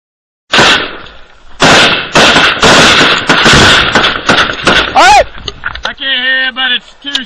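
Rapid bursts of close, loud gunfire crack in repeated volleys to provide covering fire, with shouted voices cutting in between the shots.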